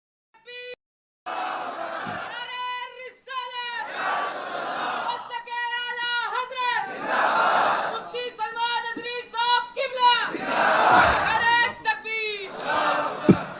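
A large crowd chants religious slogans in unison at an Islamic gathering, rising in repeated loud waves of massed voices with short pauses between phrases.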